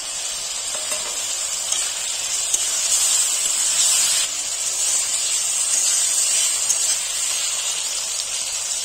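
Fried potatoes dusted with Kashmiri chili powder hiss loudly in a hot pan, an even, close frying sizzle that holds steady throughout with a slight swell midway.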